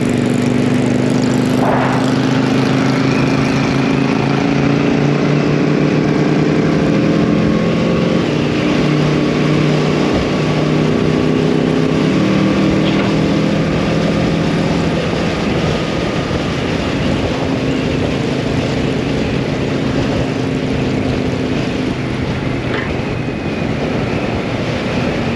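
Steady loud engine roar with rising droning tones, like a 2022 Kawasaki Z650 motorcycle revving and pulling away close by, no talking.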